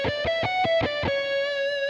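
A distorted electric guitar plays a combined picking exercise: a quick run of sharply picked notes, then a sustained ringing note, close and clean with no talk.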